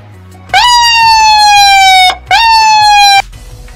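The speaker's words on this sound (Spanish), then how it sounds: "El siguiente tono es cuando llegas al lugar del incidente o estás buscando a la persona." Emergency vehicle siren sounding its tone for arriving at an incident scene: two loud, sustained wailing blasts that slide slightly downward, the first about one and a half seconds long, then a brief gap and a second shorter blast, with no talk.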